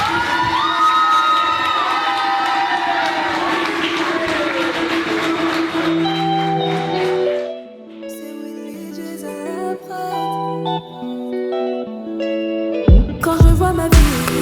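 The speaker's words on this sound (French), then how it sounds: "Toutes vos acclamations s'il vous plaît" At a church show, an audience bursts into loud cheering with shrill shouts and clapping for about seven seconds, then it fades as a melodic musical accompaniment takes over.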